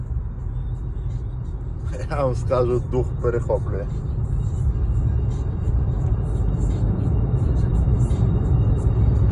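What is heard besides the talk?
Mercedes car driving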